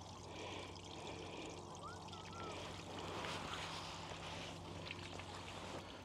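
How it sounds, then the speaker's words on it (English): Water runs and washes steadily at the seaside near high tide, a faint broadband rush with a brief bird-like chirp in the middle. "The sound of running water."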